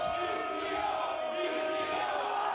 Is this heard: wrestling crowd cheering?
yes